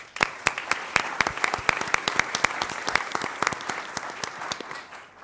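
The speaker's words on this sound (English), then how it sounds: "let's give them a big round of applause" An audience claps, with sharp individual hand claps standing out over a steady patter of applause that gradually thins toward the end.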